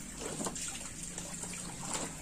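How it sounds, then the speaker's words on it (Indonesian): Soaking water drains from a bedcover being washed by hand, a steady close splashing trickle that runs without pause, with no talk over it. "Ya, ini saya buang airnya"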